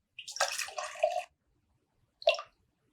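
Water is poured into a container in two short splashing bursts, a longer pour followed by a brief second one, close and clear with no talking.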